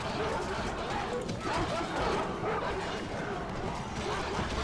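War dogs released onto a Rome: Total War battlefield bark and yip amid a steady din of fighting and crowd chatter, the barks fairly faint and mixed into the continuous battle noise.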